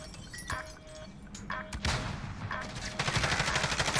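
Modern Warfare gunfire pops in short, sharp bursts at moderate distance, growing denser toward the end, with a faint in-game tone and low rumble underneath.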